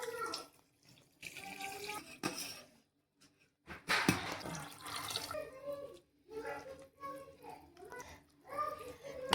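Water is poured into rava dosa batter, giving an uneven splashing, trickling sound that comes and goes beneath a person's talking, moderately close.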